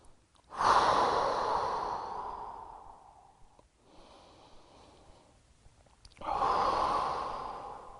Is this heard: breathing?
yes